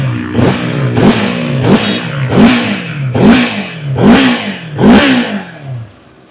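A 2025 CFMoto 700MT ABS TCS motorcycle with its original exhaust, revved repeatedly from idle: about seven rhythmic throttle blips, each rising and falling, loud and close, before the engine settles.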